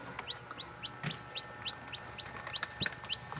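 Newly hatched silkie chicks, shells still bloody, give a steady run of about a dozen high, evenly spaced peeps, close by over faint farmyard background with a couple of sharp knocks.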